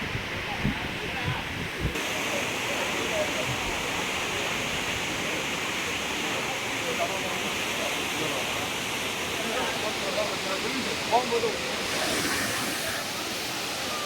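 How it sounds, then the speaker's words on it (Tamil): Steady roar of rushing water from Courtallam Falls in Tenkasi at night, continuous and broadband, with faint voices and rustling mixed in. "பாருங்க வியூவை இப்படி இருக்கு பாருங்க குற்றால அருவி."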